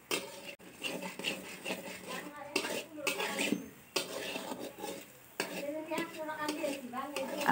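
Milk cream simmering down into ghee in a pan, stirred with a utensil: irregular scraping and clattering strokes against the pan over a light bubbling sizzle, with a voice speaking in the background.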